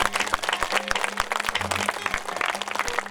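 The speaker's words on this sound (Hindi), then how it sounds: "बजाइए ताली," Audience clapping at an outdoor Ram katha religious gathering in Deoria, a dense steady patter of many hands with sharp rhythmic claps running through, with no talk over it.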